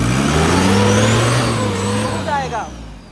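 A modified off-road Thar or Gypsy with a turbo engine idles and revs loudly nearby in a rough rumbling drone, rising and easing off, while people talk over it.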